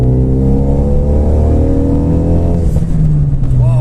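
A newly bought car accelerating hard on a first drive, the engine note rising steadily through the revs, loud and close, with a brief shift near the end.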